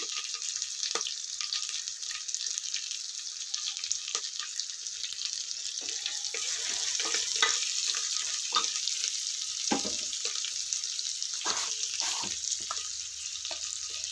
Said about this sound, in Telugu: ఇది కొద్దిగా వేగిన తర్వాత ఆనియన్స్ వేయాలి